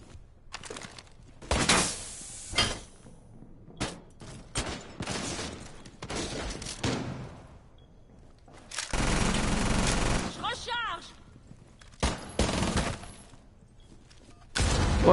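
Sharp bursts of gunfire in the video game Rainbow Six Siege, loud intermittent volleys and bangs separated by quieter gaps, with people talking in French in between.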